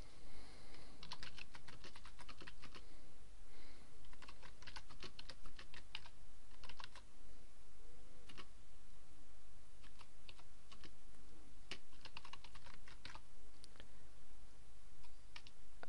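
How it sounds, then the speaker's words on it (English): Typing on a computer keyboard while entering text for a blog post, with bursts of quick, close key clicks separated by short pauses over a quiet room background. "And then I'm going to type a bit of text in."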